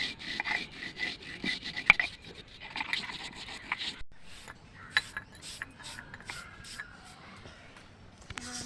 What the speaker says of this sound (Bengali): মশলাটা আমি বেটে নিচ্ছি লেবু শরবতের জন্য মশলাটা তৈরি করছি